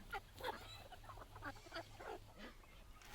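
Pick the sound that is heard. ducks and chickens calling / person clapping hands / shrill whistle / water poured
ducks and chickens calling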